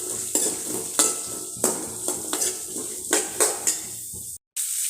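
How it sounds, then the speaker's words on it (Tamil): Onions sauté with fennel seeds in a pan for a quick chutney, with rhythmic spoon scrapes and knocks against the pan over a steady frying sizzle and a short break in sound near the end. "நல்லா பொரிஞ்சு வந்ததும் வெங்காயத்தை சேர்த்துக்கலாங்க. இப்போ வெங்காயத்தை ஒரு வதக்கி விட்டுக்கலாங்க."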